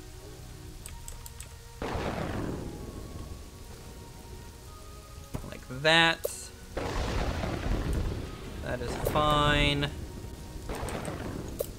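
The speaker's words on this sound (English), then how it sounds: "It is really pouring down the rain." Heavy pouring rain with deep thunder booms in the medieval city-building video game Kingdoms and Castles, a steady wash broken by two loud rumbling crashes, with someone talking briefly over it.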